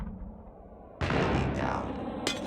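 A frag grenade goes off in a first-person shooter video game: a sudden loud, booming blast that rolls on with a dense rumbling roar, topped by a sharp crack near the end.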